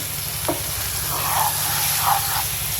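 Potatoes fry with tomato and spices for aloo dum, a soft steady sizzle with a few stirring scrapes over a constant low hum.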